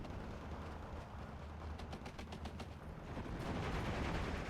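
Rapid machine-gun bursts rattle in quick succession amid distant howitzer and rifle fire in a strategy war game, fairly faint, with a swelling rumble of battle noise toward the end.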